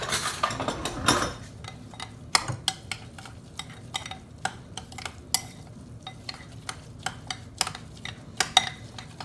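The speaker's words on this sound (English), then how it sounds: "And then we're just going to stir all of this up." Stirring a liquidy veggie meatball mixture in a bowl: a steady run of quick scraping and clicking strokes, close up and continuous for several seconds, with no talking.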